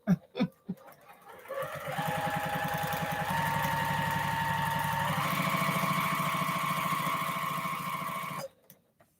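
A sewing machine runs steadily for several seconds while stitching quilt strip sets, a close, even mechanical whir that starts after a few soft knocks and stops abruptly near the end.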